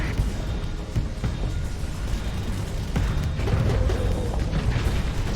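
Singularity torpedoes and missiles exploding together in a Starsector space battle, a thick stream of low booms and sharp bursts that swells louder toward the end.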